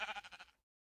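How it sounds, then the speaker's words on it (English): A Minecraft sheep gives one short, wavering bleat, close and fairly quiet, pulsing for about half a second before cutting to silence. "I found sheep"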